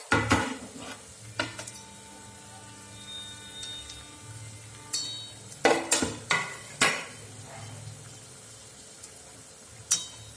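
Vegetable urad dal vadas frying in hot oil with a soft steady sizzle, broken by sharp metal clinks and scrapes as a utensil turns them over, several clustered taps near the middle and end.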